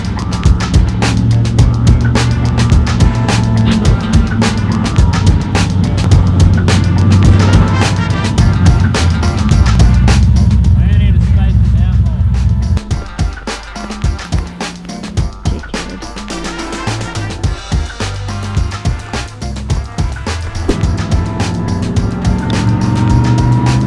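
A car with no shock absorbers weaving in and out of obstacles, its engine droning loud and close throughout with a brief rise and dip in revs midway, tyres faintly scrubbing.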